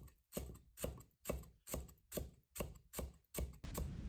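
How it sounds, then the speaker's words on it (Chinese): A knife chopping coriander stems on a cutting board, eight evenly spaced crisp thuds in a steady rhythm, close and clear with quiet gaps between strokes. "香菜的梗部用刀切碎。"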